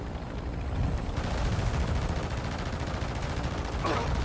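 Loud, dense gunfire from the video game Call of Duty: Modern Warfare II rattles continuously through a battle din, with shots blurring together into a steady barrage for the whole stretch.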